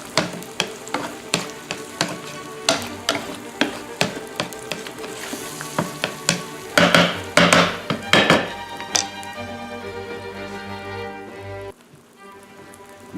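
Eggs sizzle in a stir-fry pan while a utensil stirs them in quick repeated scraping taps, close and loud over a steady frying hiss that drops lower near the end.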